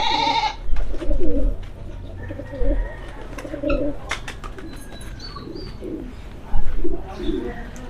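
Racing pigeons cooing in a loft, with repeated soft throaty coos and occasional louder calls close by, mixed with wing flutters and other bird noises, plus faint background voices.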